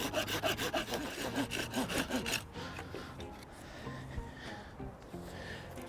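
A hand saw cuts through old wooden twigs in quick, rhythmic back-and-forth strokes close by, then slows into softer, irregular rasping.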